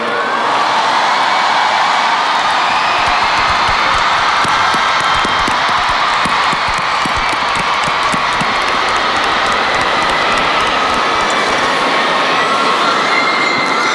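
A large crowd at a 2017 K-pop awards ceremony featuring BTS and Wanna One applauds, a loud, dense wash of clapping and cheering that swells in and carries on for about twelve seconds before tapering.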